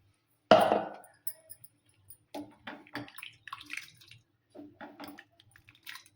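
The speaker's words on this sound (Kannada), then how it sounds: "ಈ ಮಿಕ್ಸಿ ಜಾರ್ ಎಡ್ಸಿನ ಸ್ವಲ್ಪ ಹಾಕ್ತೀನಿ ನೋಡ್ರಿ ನೀರು" Water poured into a mixer jar holding ground peanut paste, a short splashing pour at the start followed by scattered small clinks and wet knocks, close and quiet.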